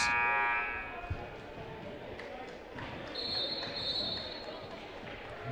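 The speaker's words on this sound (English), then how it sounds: "There's the buzzer to get this thing on the way." A loud electronic buzzer blares at the start of a girls' basketball game in a gym, then fades into bouncing balls, squeaking shoes and crowd chatter.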